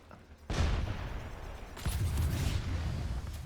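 A sudden loud grenade blast in Apex Legends bursts in, followed by a second booming explosion with rumbling noise that sustains afterward, game-like and dense.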